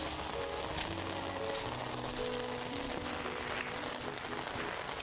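Steady rain hisses throughout, a dense even patter with faint low tonal hum underneath, no voices.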